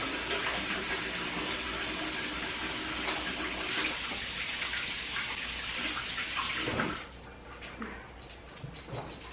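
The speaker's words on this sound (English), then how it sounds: "I'm going to take this and wash my hands again." Tap water runs steadily while hands are washed in a home kitchen, a close, even rushing stream that stops abruptly near the end, leaving a few faint clinks and rustles.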